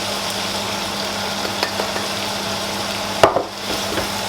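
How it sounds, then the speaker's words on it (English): Spices and mushrooms frying and stirred in a pan, giving a steady close sizzle with a few scraping strokes and one sharp knock against the pan near the end, no voices. "Got a good stir up."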